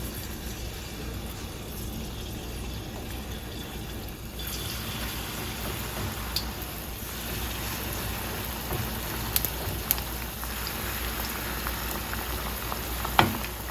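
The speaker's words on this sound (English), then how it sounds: "Now I'm gonna add the butter to the hot oil." Butter added to hot oil in a pot over medium-high heat makes a continuous, even sizzle and bubbling hiss that holds steady and fairly loud throughout, with a few faint pops.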